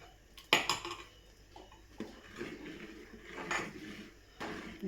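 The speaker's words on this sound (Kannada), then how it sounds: "ಕುದೀತಾ ಇರುವಂತಹ ಹಾಲು ಮತ್ತು ಸಕ್ಕರೆಗೆ ಹುರ್ಕೊಂಡಿರುವಂಥ ಗೋಡಂಬಿ ದ್ರಾಕ್ಷಿನ ಸೇರಿಸೋಣ" Fried cashews and raisins go into milk and sugar boiling in a pan, with sharp metal clinks of a spoon against the pan, a few scrapes and stirring clatters close by.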